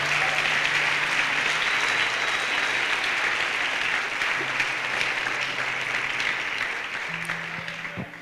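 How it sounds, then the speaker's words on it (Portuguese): Congregation applauding during a church service, a loud, dense and sustained wave of clapping that fills the hall and slowly tapers toward the end. "Então, você podia aplaudir o Senhor por causa disso"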